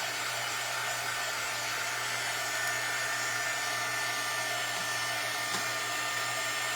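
A hair dryer blows steadily and loudly at close range over a Mod Podge reverse canvas craft project, a continuous whooshing motor hum with no break throughout.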